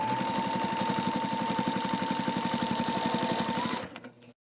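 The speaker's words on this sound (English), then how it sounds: "Once you have your binding made, you just sew it on." A sewing machine stitches binding onto a quilt, its rapid, even needle rhythm running loud and close for several seconds before slowing and stopping.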